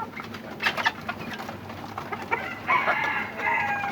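Chickens cluck and a rooster crows amid a busy poultry yard, with overlapping bird calls at moderate distance and no talking.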